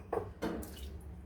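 Water poured into ground ragi (finger millet) pulp for a second grinding, two short close splashy pours followed by a softer trickle, no talking.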